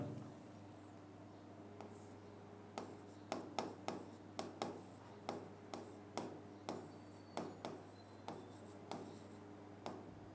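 Marker or chalk writing on a classroom board in a chemistry lesson, a steady series of short squeaky strokes and taps in a quiet room, continuing for about ten seconds without talk.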